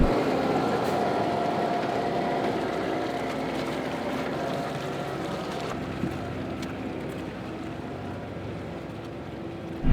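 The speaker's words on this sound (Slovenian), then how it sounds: "pogon že laufa, čeprav zdaj kar bolj kad ne traktor še vleče" A steady tractor engine drone runs throughout with a low rumbling hum, fairly close and continuous, pulling and driving a Tajfun GAP140 forestry trailer under load in a forest, with no talking.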